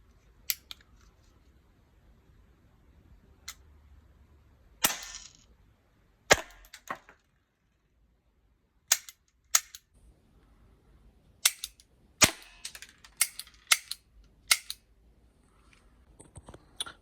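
Several sharp, isolated pistol shot cracks from a PMF-1 spaced irregularly, some in quick pairs, with quiet stretches between and faint handling noise.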